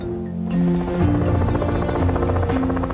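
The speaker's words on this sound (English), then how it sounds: "several Vietnam-era helicopters made a guest appearance" Vietnam-era Huey helicopters arrive at an outdoor gathering, a steady rhythmic rotor throb with a droning engine tone that rises in loudness and holds close.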